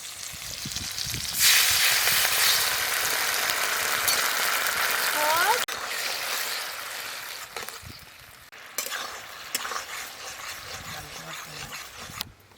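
Onion, tomato and capsicum stir-fried for chilli chicken give off a loud, steady sizzle with scraping stirs, easing after a few seconds into quieter frying with occasional utensil clinks and knocks.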